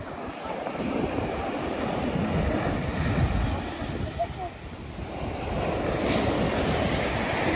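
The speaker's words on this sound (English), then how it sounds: "It's a little windy out here, kids, so it might be kind of hard to hear us." Wind and surf on a beach at Myrtle, a steady broadband roar of waves washing in with gusty wind buffeting the microphone, loud and continuous throughout with a brief dip midway.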